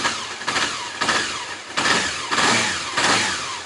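A Honda CB 500 motorcycle engine runs close by with a rough, throbbing idle that swells in repeated surges every half second or so, as if lightly blipped.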